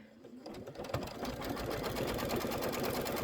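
An embroidery machine stitches a tack-down line in a fast, even mechanical patter that starts up and quickly settles into a steady loud run, close up.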